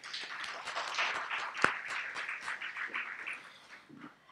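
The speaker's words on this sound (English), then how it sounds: "Please give yourselves a round of applause." Students at a launch for a community development certificate applaud in a faint, distant patter of many hands that thins out toward the end.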